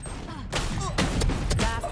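Rapid gunfire bursts from the video game Valorant crack loudly in quick succession over a dense, busy game soundscape.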